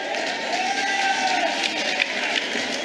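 A large audience at the ANC's 6th policy conference applauds, a dense, sustained wash of clapping and crowd noise with faint cheering mixed in.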